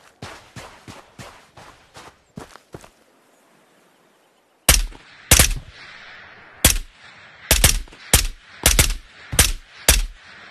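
Gunfire in the video game Ghost of Tabor: a quick burst of fainter shots, a pause, then loud, close, sharp single shots fired in an irregular rhythm, with no talk over them.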